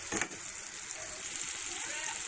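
Spices frying in a pan as tomatoes and green chillies go in for bhindi masala, a brief burst of steady hissing sizzle up close with a faint stirring knock at the start.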